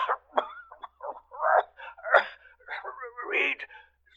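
A man in an old radio drama, said to have been gassed in the First World War, coughs in several harsh, wet bursts over about four seconds, close and fairly loud, with pauses and gasping breaths between them.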